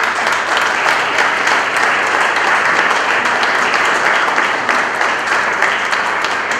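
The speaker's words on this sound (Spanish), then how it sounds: "y un aplauso para él." An audience at a political gathering applauds a provincial deputy, with loud, dense clapping from many hands holding steady throughout, close and continuous, with no voices rising above it.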